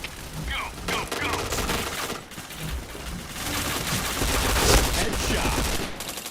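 Rapid gunfire in the online shooter Point Blank, dense bursts of automatic shots crackling continuously, with a voice talking faintly underneath.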